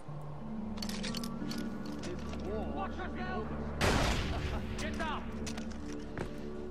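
A sharp sniper shot cracks out once in Far Cry 4 near an enemy outpost, a loud broadband burst standing out over steady game ambience and low engine-like drone.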